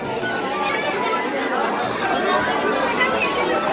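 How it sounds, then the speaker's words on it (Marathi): A dense, lively crowd at a village yatra fair, with continuous overlapping chatter and voices filling the air close by. "आमच्या गावची यात्रा, बापरे इतकी गर्दी आहे"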